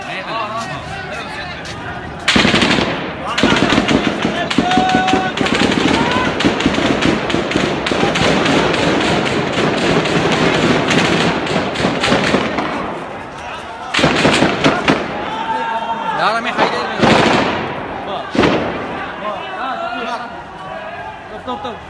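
Live gunfire from security forces breaking up a street protest, loud repeated cracking bursts over a constant roar of crowd noise and shouting voices, with a few sharper blasts standing out.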